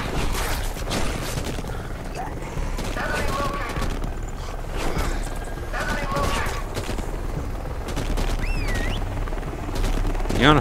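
Gunfire in the zombie game Deadlight: repeated sharp shots cracking out over a steady, dense background of game noise, fairly loud throughout.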